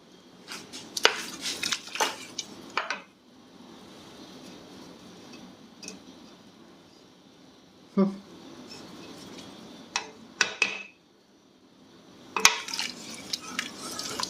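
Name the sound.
mixing with a spoon in a pot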